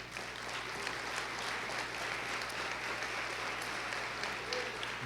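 A church congregation claps in sustained, even applause that fills the space from start to end, with faint crowd murmur mixed underneath.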